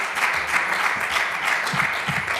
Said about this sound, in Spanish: Yo me imagino que aplauden